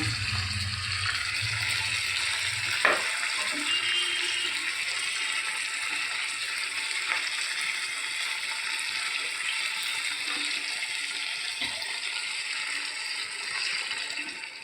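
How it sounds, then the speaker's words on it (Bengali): Saved chhana whey water poured into a pan of chilli curry, a steady close splashing and trickling stream running unbroken for the whole stretch, with a faint clunk near the start and no voices. "আমি যে ছানার জল রেখে দিয়েছিলাম, সেই ছানার জলটা এবার এর মধ্যে দিয়ে দেব।"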